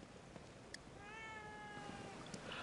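A cat meows in the horror video game The Evil Within 2, a faint drawn-out mew rising over a quiet ambient hum, heard alone without talk.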